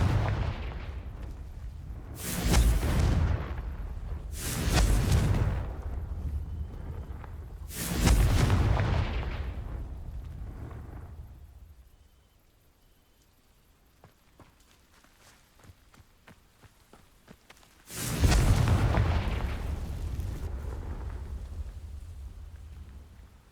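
Confringo fire spells blasting dry vines in the Hogwarts Legacy video game: four loud, broadband bursts, three in quick succession and one more after a quiet gap, each decaying into a crackling rumble.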